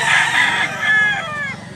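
A fighting rooster crows once, loud and close, in a single drawn-out call that rises and then trails off.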